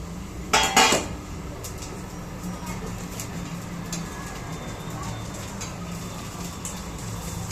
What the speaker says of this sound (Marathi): 2-3 भांडे आहेत तर घासून घेते.